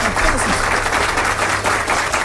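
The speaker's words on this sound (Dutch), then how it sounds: "Gewoon nog een keer applaus." Applause for a live band in a 3FM radio studio, a dense, steady wash of clapping over a low hum with talk mixed in.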